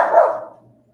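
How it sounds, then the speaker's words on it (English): A dog gives a single sharp bark that trails off quickly, loud and close, with no talk over it. "We can hear you barking."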